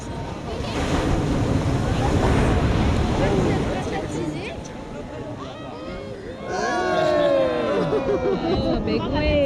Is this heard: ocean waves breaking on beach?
yes